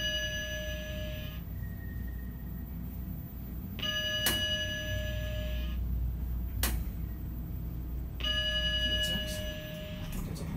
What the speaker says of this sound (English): This is my first 3300 with that chime.